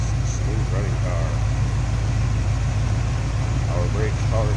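A 1972 Chevrolet Chevelle Heavy Chevy with a 350 V8, HEI ignition and a different intake idles in a steady, close, low rumble, with a voice talking faintly over it.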